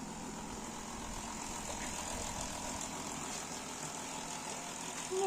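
Three 12-volt pumps run on a homemade sprayer for a mini-tractor, a steady droning hum that holds unchanged throughout with no talk.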